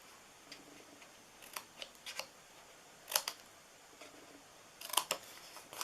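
Scissors snip through paper while a Christmas treat box is cut out, producing faint, sharp crisp clicks scattered irregularly over a quiet room, with a few clustered cuts.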